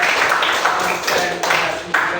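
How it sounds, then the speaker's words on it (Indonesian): Classroom of students clapping together, a dense steady patter of many hands lasting a couple of seconds with small surges, fairly close in a room. "Oke, tepuk tangan semuanya."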